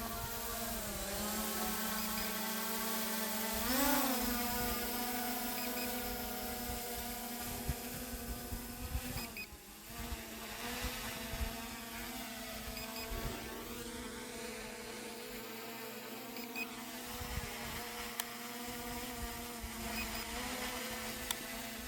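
A drone flies over a farm on a calm, still day, giving off a steady high-pitched rotor whine that holds close and loud for the whole stretch, its pitch briefly rising and dipping as it maneuvers.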